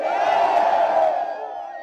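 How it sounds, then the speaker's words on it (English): A large, enthusiastic crowd at an Odinga opposition rally in Kenya roars and cheers continuously, a dense wall of massed voices that swells and then eases slightly toward the end. "reiterated that position to the enthusiastic crowd"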